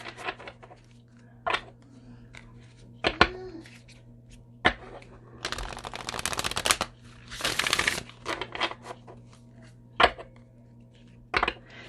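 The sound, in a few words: shuffling Akashic Oracle cards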